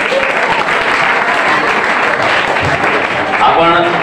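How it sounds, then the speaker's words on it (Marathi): An audience at a school annual prize distribution ceremony gives a teacher loud, dense, continuous applause lasting the whole few seconds, with a voice faintly heard near the end. "हरियान सरांसाठी जोरदार टाळ्या वाजवायचे."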